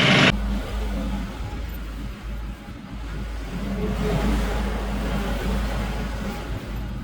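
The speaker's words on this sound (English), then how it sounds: "It's a little more challenging with the tractor than a skid steer." A tractor engine labouring steadily while digging a gravel driveway, a continuous low mid-range drone that swells slightly under load, close and constant throughout.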